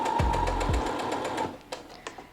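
A sewing machine runs a quick stitching burst along an elastic channel at a 1/4 inch seam allowance, a loud close rhythmic whir that stops after about a second and a half, followed by a few small clicks.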